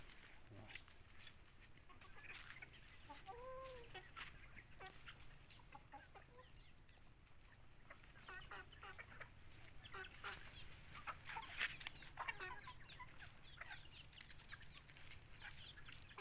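Domestic chickens cluck and squawk at feeding time, their calls near and fairly steady over a low rural background hum, with a few louder bursts and faint human sounds now and then. The feed is rice cooked over a wood fire, mixed into chicken food.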